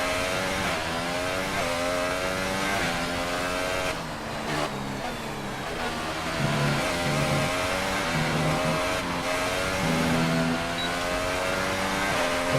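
A Formula 1 race car engine screams in the F1 2018 video game at the German Grand Prix, loud and continuous, its pitch rising and falling through gear changes and corners, with no talk over it.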